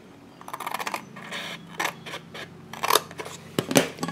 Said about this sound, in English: Use my little snips right in there.